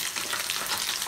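Pabda fish fry in hot oil in a pan, giving a soft, steady crackling sizzle with faint pops that runs on evenly and close by, fairly quiet, with no voices.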